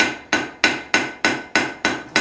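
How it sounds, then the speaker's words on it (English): A blacksmith forging an iron rose strikes a hot iron bar with a hammer, eight sharp, evenly spaced ringing blows, each one fading quickly before the next falls. "I want to hammer that back there to where it begins to get cold."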